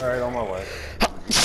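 Someone speaks briefly, then a sharp, sudden sneeze bursts out near the microphone, followed by a second short breathy burst, during an online game session.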